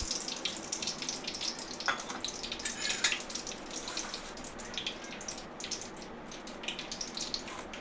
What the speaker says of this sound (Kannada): ಎಣ್ಣೆ ಹಾಕ್ತಾಯಿದ್ದೀನಿ ಬಾಣಲಿಗೆ.